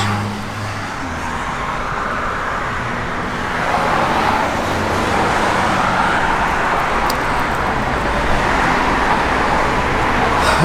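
A 1967 Plymouth Satellite with a 383 engine drives steadily along a road, its engine and tyre rumble continuous and fairly loud throughout, with no talking.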